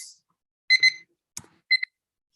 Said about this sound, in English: My timer has said I have to stop.